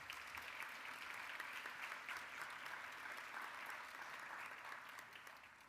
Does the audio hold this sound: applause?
yes